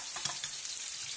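Broccoli frying in a pan gives a steady, close sizzle with a few soft scrapes and clinks as the pieces are turned; no one speaks.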